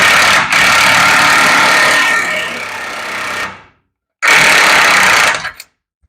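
Power tool loosening an 18 mm nut on race truck steering components, two loud, close buzzing bursts, the first about three seconds long and fading out, the second shorter after a brief pause.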